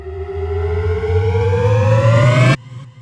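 A riser transition effect from the UVI Meteor FX sound library, with a tone sliding steadily upward in pitch for about two and a half seconds like a siren, then cutting off abruptly into a brief low tail.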